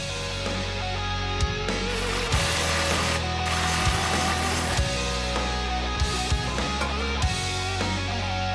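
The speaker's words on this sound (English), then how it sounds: "A ratcheting wrench is really handy in this situation." A ratcheting wrench tightens parts on a twin-turbo Hemi stroker engine in a 2010 Dodge Challenger SRT8, clicking in short bursts under a steady loud background hum.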